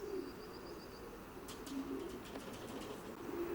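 Racing pigeons in a self-built 20-foot, two-section young bird loft, with soft cooing and brief wing flaps under faint steady background noise.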